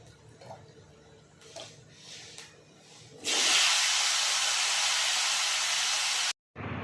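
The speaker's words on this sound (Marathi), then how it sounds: "आता आपण कापून घेतल्या शेंगा त्याच्यात टाकून घेऊ." Sliced drumsticks dropped into a hot cumin and turmeric tempering in a pan, bursting into a loud, steady sizzle after a few seconds of quieter kitchen clatter.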